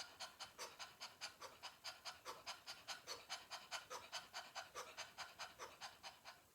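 Fast, rhythmic panting of a person doing a breathing exercise, about twenty quick even breaths in a steady pulse, close and quiet with no talk.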